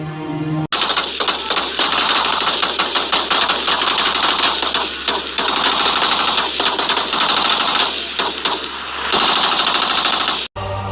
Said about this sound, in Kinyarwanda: Ndagira ngo ubanze wumve amasasu yari yabaye urufaya.